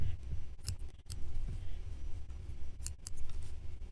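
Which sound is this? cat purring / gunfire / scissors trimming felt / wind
scissors trimming felt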